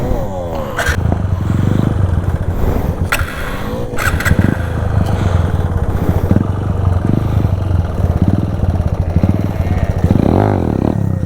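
A motorcycle engine revs and idles up close during wheelie practice, with repeated throttle blips and some clattering, heard under an instructor's talk.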